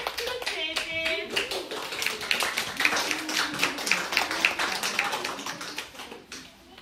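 Audience of parents clapping for a children's kindergarten autumn play, steady scattered hand claps running throughout, fairly close, with some background voices mixed in.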